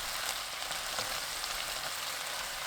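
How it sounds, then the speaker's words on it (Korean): Shishito peppers and seasoning stir-fry over high heat, giving a dense, continuous loud sizzle up close with light stirring. "만든 양념 3분의 1, 꽈리고추 넣고 센 불로 1분 30초 볶아주세요."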